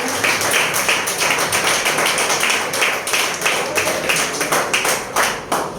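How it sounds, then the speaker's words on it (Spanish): A church congregation clapping in a loud, dense, roughly rhythmic wave during a Spanish-language service, many hands close and strong with regular accents. "Den un aplauso a nuestro Padre Celestial"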